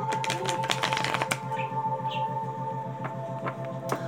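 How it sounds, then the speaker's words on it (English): Tarot cards being shuffled by hand give a rapid, steady run of soft papery flicks over a constant low hum, close and continuous, with no talking. "I don't usually shuffle my cards like this either, but I'm going to try it."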